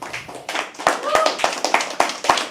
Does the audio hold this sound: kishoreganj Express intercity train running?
no